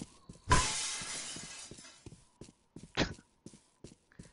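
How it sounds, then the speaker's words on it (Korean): A pane of glass shatters in the violent first-person game Postal 2, with one loud crash that fades into a tinkling spill, followed by scattered crunchy footsteps and a second, smaller burst of breaking glass. "깨지는 거 너무 호쾌하다 인간적으로"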